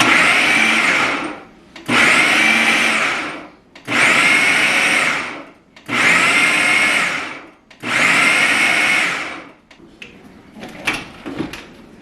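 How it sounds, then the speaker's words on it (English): A blender whirs in five short pulses, each about a second and a half, with brief pauses between, followed by some clattering handling sounds, while making homemade turkey burgers. "let me take this blender off and put this on. So I'm just gonna pulse it"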